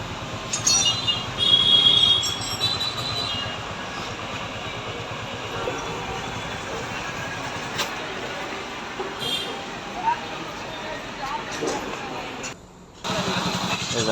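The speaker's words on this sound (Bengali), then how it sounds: "গাড়ি আমাদের কমপ্লিট। এখন আপনাদেরকে আমি সাউন্ডটা শুনাইতেছি" A car engine running at a steady idle after repair work, a smooth continuous hum with slight swells in level and a brief dip near the end.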